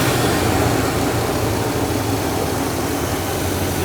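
A barn-find car engine idles steadily after tuning, a continuous low rumble that holds even and close for the whole stretch with no talk over it.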